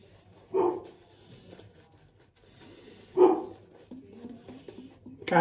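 A dog gives a few short, separate barks indoors, each well spaced from the next, with quiet room tone between them and no talking.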